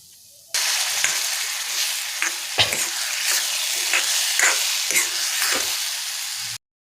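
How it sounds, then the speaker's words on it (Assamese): Hot water hits semolina halwa in a pan with a sudden loud sizzle that keeps hissing steadily, broken by repeated scraping stir strokes. "ইয়াতে এতিয়া অকণমানকৈ আকৌ গৰম পানী দিম।"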